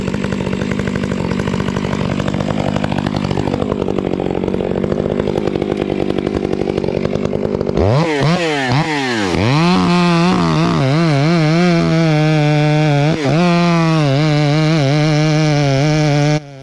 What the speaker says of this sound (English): This is a 661 36-inch bar, 33 RS chain.